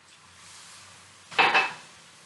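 A utensil clinks and scrapes against a bowl while coffee cake mixture with sugar and coffee is stirred, a short clattering burst in an otherwise quiet kitchen.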